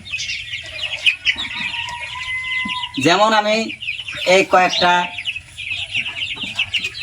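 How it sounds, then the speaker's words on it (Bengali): Tiger breed chicks and chickens clucking and peeping continuously on a farm, with louder nearby clucks in the middle, while someone speaks over part of it. "এগুলো টাইগার মুরগির বাচ্চা আনছিলাম ছোট থেকে"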